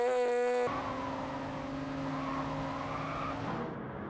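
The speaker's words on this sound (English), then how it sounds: "Listen to the sound of that beetle, like a trumpet." Volkswagen Beetle Gr.3 race car in GT Sport racing at Lago Maggiore, a steady, loud, brassy trumpet-like engine drone holding pitch for several seconds, briefly preceded by a different tonal sound and fading slightly at the end.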